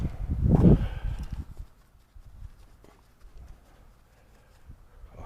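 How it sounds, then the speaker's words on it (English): A horse makes an odd, short burst of sound, loud for about a second near the start, followed by quieter shuffling, soft hoof movement and stable noises. "Eee, you've got the strangest noise, Bean"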